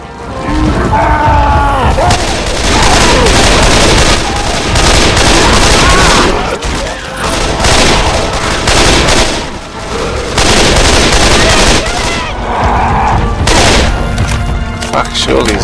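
Dense, continuous gunfire from several weapons in Left 4 Dead 2, on the Hard Rain campaign at Expert difficulty, with heavy booms and bursts nearly filling the clip while voices shout over the shooting.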